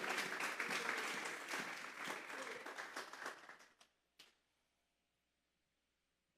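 A church congregation claps together for several seconds, loud and dense at first, then thinning to scattered claps and a final few before silence, with no speech over it.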